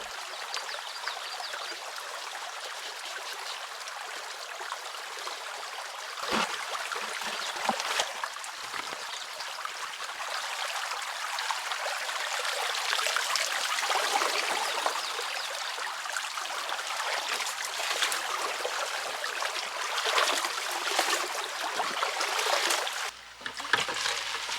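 Water rushing steadily through a gold sluice box while a bucket of material is washed out at a Wisconsin mining spot, a continuous close splashing gush that swells and thins slightly, with no talking.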